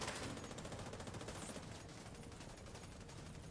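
Rapid sustained gunfire in The Division 2 video game, dense overlapping automatic bursts filling the whole moment, loud and continuous.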